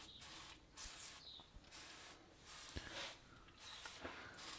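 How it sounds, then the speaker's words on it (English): Brake cleaner hisses from an aerosol can in several short bursts onto the rusty rear drum brakes of an abandoned Ford Focus, quiet and close, with small clicks between sprays. "Give it a bit of a spray down with some brake cleaner"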